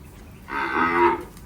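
A Kankrej cow on a farm lets out a single long, loud moo that rises and falls for about three quarters of a second. Quiet farm ambience surrounds it and there is no talking.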